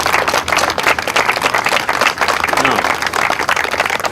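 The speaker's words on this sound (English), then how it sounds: "So a round of applause to all the people that made this possible," Applause from an outdoor crowd at the dedication of the Quequechan River Rail Trail, steady broadband clapping mixed with voices and cheers throughout.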